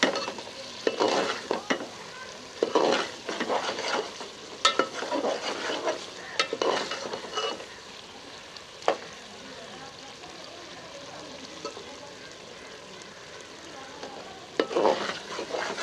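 Kaddu chicken with ground garam masala fries in a pan, with a steady sizzle under repeated scraping and stirring strokes of a spoon that come in irregular bursts, close and clear.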